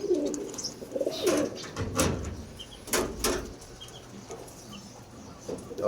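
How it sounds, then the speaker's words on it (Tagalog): Racing pigeons in a loft coo softly in low repeated calls, with scattered rustling and knocking nearby and occasional brief bird sounds. "Bali healthy yung mga ibon dito dahil alagang alaga."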